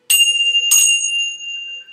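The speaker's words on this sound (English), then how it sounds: "And now we ring our Tibetan bells for peace." Two strikes of Tibetan bells a moment apart during morning peace prayers, each leaving a clear, sustained ringing tone that fades slowly in a quiet room.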